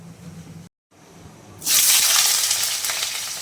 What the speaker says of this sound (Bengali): আলুগুলো না ভাজলে আগে শক্ত থেকে যাবে আলুগুলো একটু ভেজে নেওয়ার পর